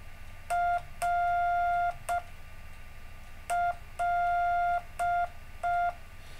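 Slow Morse code at five words per minute beeps in a steady pattern of short and long pulses, clear and alone against a quiet hiss.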